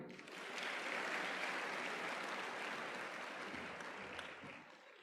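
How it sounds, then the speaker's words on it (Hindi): Applause from an audience at a student festival talk, a continuous broad wash of clapping that swells early, holds steady and fades a little at the close. "तालियां"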